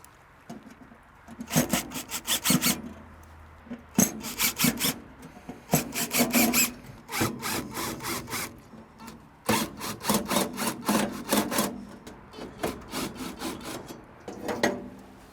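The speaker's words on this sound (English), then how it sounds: "Now we need to undo the 7 screws that secure the bottom plate to the hopper." Screws being undone from the bottom plate of the hopper on a Camp Chef Woodwind Pro pellet grill, heard as repeated bursts of rapid ratcheting, rasping driver noise separated by short pauses.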